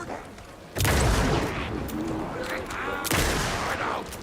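Rifle shots in the horror video game Alan Wake 2: two loud, sharp gunshot bursts, the second about two seconds after the first, with game ambience and faint in-game sounds between them.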